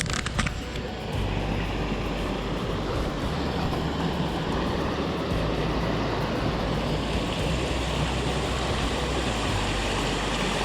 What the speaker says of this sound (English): all of a sudden you hear water